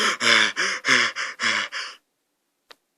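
A person imitates gasping for breath with a run of about six loud, ragged, strained gasps in quick succession, followed by silence and a tiny click.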